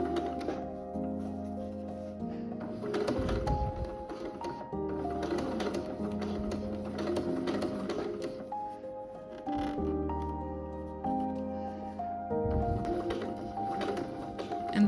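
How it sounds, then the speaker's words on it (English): Domestic sewing machine top stitching the outer side of a bra's boning channel, running in rhythmic bursts of rapid needle chatter separated by short pauses, close and clear with no talking. "I'm just sewing or top stitching the outer side of the boning channel, the one that was loose before."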